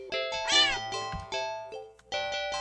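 A cat meows repeatedly and insistently, several drawn-out, tonal cries in close succession at close range, with no talking over them.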